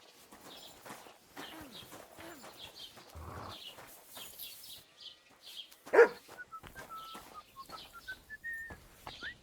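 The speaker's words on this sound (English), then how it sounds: "You silly doggy." Dog barking in the video game Kingdom Come: Deliverance 2, one loud sharp bark standing out amid footsteps, bird chirps and other quiet ambient game sounds.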